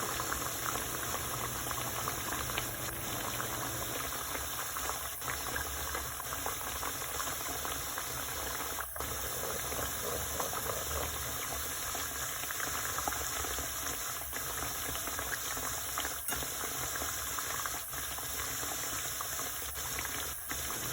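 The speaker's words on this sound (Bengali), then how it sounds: "আরও এক পান আমি দিছি কুকারের উপরে, তেলের মাঝে আমি দিছি" Oil sizzling and bubbling steadily in a pan on a cooker stove, a continuous close, even hiss with faint crackles, heard alone without talk.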